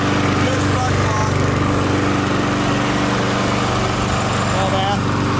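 A Briggs and Stratton Quantum lawn mower engine with a faulty muffler runs loud and steady nearby, a continuous buzzing drone with a rough edge and no breaks.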